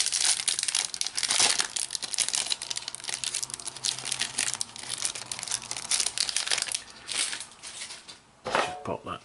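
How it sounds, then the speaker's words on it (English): Crinkly plastic wrapper of a pack of oversized football trading cards being torn open and handled, a continuous close crackle and rustle with a few sharper tears, with a person talking over it. "let's get into the pack of XL oversized cards, supersized cards, whatever you want to call them"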